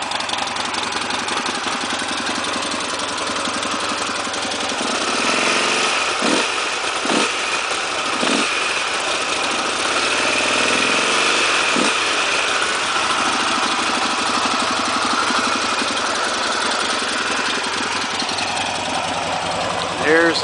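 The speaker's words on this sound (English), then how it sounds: "XR1200 sound." A Harley-Davidson XR1200 motorcycle engine idles steadily and loudly throughout, a low rumbling throb with a few brief revs midway.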